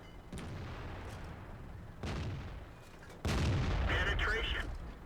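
Three booming tank gun shots from a KanonenJagdPanzer in World of Tanks fire one after another at roughly even intervals, each loud and sharp with a lingering rumble, the last one the heaviest.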